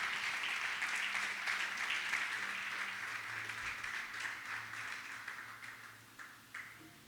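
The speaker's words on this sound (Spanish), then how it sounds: "Le da aplauso al Señor, a la iglesia." A Spanish-speaking church congregation claps in a broad, continuous round of applause that starts strong, then gradually thins and fades toward the end, with a faint low hum underneath.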